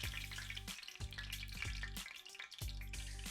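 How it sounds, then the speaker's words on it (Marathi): Poha cutlets fry in a pan until crisp, giving a soft continuous sizzle with faint crackle close by; a steady low tonal hum runs underneath, and no one speaks. "आता आपण हे कटलेट छान असं क्रिस्पी होईपर्यंत भाजून घेऊया"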